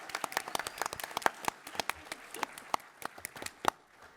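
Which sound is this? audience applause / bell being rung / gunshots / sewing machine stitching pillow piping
audience applause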